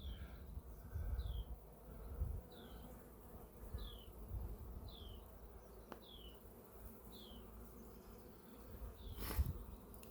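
Honeybees buzzing in an open, crowded hive, a faint, low, steady hum with a bird chirping repeatedly at regular intervals in the background.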